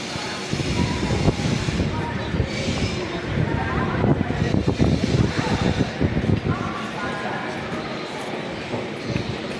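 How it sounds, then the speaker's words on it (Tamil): A passenger train on the Salem–Mayiladuthurai line rolls along the rails near the Kaveri and Kollidam rivers, a dense continuous rumble with clattering wheels throughout, under someone talking. "இந்த ட்ரெயினில் தான் நம்ம உத்தமர் கோயில் வரைக்கும் நம்ம ஜேர்னி பண்ண போகிறோம்."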